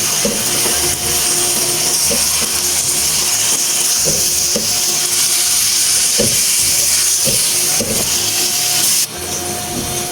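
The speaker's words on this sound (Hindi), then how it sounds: "अब हम इसमें कीमा डालेंगे। इसको हम अच्छी तरह से मिक्स कर देते हैं।" Beef mince added to a hot pan and stirred in: a steady, loud frying hiss runs throughout, with regular dull knocks and scrapes from the mixing.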